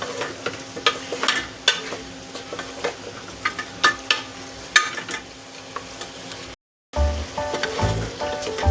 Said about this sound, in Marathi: मोठ्या गॅसवर आपल्याला असं 5 मिनिटं असं हलवत राहायचं आहे.